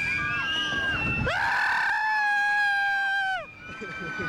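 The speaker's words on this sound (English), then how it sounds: "I heard the secret word, so I'm screaming really loud." A person lets out a long, piercing, sustained scream close by at a theme park in Santa Clara, California, in 1991, with faint crowd noise around it before the voice breaks off.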